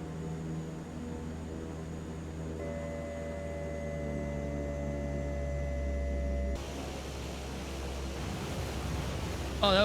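A Canadair CL-415 water bomber in Microsoft Flight Simulator 2024 drones with steady engine hum, then touches down on water with a sudden burst of broad rushing spray and hiss that continues to the end.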